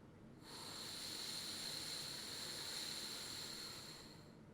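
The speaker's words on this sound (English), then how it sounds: "We're just going to fill in our lungs and let it all out through the mouthpiece." Steady rush of air blown through a brass instrument mouthpiece with no buzzing, one long continuous breathy hiss that swells in and fades slightly at the end, faint and close with no other sound.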